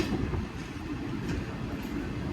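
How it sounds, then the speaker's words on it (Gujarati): A train runs fast along the rails near Bhavnagar, a steady loud rumble with faint clatter that holds evenly for the whole stretch, with no voices. "અત્યારે હવે ટ્રેન કેટલી ફાસ્ટ જાય તમે જો"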